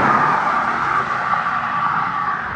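A car on an empty Houston road on a quiet holiday rushes past at speed, a loud, steady tire-and-engine whoosh that tapers off slightly as it recedes, heard from the roadside with no talking.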